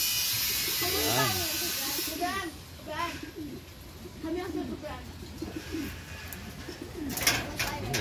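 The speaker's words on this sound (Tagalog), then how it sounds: "Yan, mga kalapati ko." Pet pigeons in a breeding coop cooing nearby in repeated throaty rolling calls, with someone talking over them.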